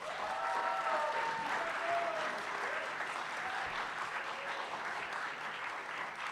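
A final round of applause at a county district candidate forum, steady continuous clapping from the audience throughout, fairly even in level with faint voices mixed in.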